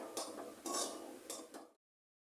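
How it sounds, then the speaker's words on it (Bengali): A spoon stirs a mango kacha golla mixture cooked with ghee in a pan: a few short scraping strokes with soft clatter, close and faint, ending abruptly in silence. "একটুখানি ঘি দিয়ে আমি এটাকে নাড়ছি"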